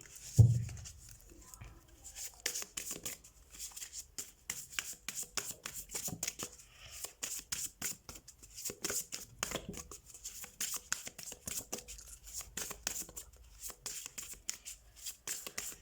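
A brand-new unicorn-themed card deck being shuffled by hand for a tarot reading, giving a steady run of soft riffling and rubbing card flicks close to the microphone with no talking.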